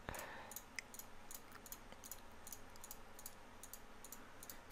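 Rapid computer mouse clicks while placing plants in the PC building game Stonehearth, a quick irregular series of faint, close ticks over a low background hum.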